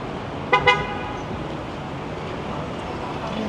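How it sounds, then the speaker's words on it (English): Rush hour street traffic near a New York subway entrance, with two quick car horn toots over a constant roadway hum. "We got some rush hour traffic shenanigans building up here."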